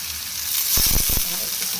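Lentils sizzle in hot oil in a pan, a bright steady hiss up close. A few quick stirring scrapes land in the middle.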